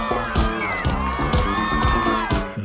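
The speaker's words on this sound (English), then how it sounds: "The crowd, who's clearly B-roll from a way better game, goes wild." A stadium crowd at a football game roars and whoops wildly, with loud cheering and shouting sustained throughout, layered over music with a steady rhythmic beat.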